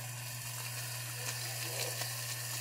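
Two pounds of ground beef frying in a big skillet, a soft even sizzle held steady throughout over a low constant electrical hum, quiet and without talk.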